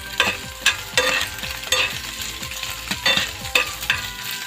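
A knife fish sisig mixture seasoned with calamansi is stirred and scraped in a sizzling pan, with rhythmic clacks of the utensil over a steady frying hiss, close up and without voices.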